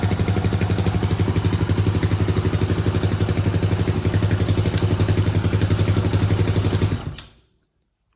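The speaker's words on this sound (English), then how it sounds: "motor sounds good." Kawasaki KLX140RF with a 170cc big bore kit idling close up in a workshop, a steady rapid loud putter for about seven seconds before cutting off abruptly.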